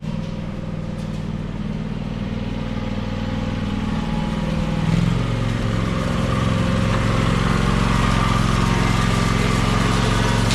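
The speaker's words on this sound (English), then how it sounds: "Now, we'll hop on the tractor, pull it out front." A tractor engine runs steadily at a backyard garage, a loud continuous low rumbling drone with a slight change in pitch midway, close by and with no talking.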